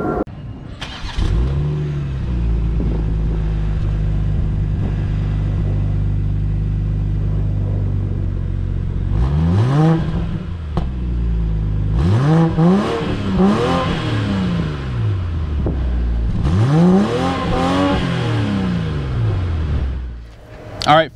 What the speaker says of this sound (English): What'd you think about the sound of this 2022 BMW X5? Now, keep in mind, it is a V6